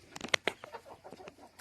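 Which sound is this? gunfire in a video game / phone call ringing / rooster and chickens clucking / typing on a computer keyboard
rooster and chickens clucking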